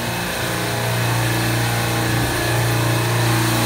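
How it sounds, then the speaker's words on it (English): Refrigeration compressors run steadily in a plant room on a bitterly cold -25C day, a continuous loud mechanical drone with a strong low hum that stays even throughout. "So this is the compressor room, the plant room."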